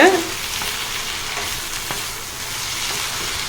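Mint leaves sautéing in a pan for pudina chutney, a close, steady sizzle with light stirring scrapes and a brief clatter at the start, with no talk.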